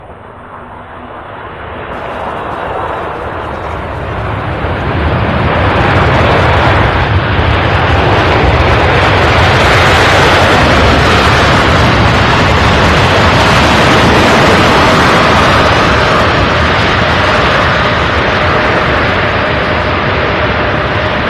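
An airplane, likely a heavy jet, takes off at Louisville International Airport (SDF) beside the UPS Worldport. A loud, broad engine roar swells after a few seconds and holds steady, alone and close.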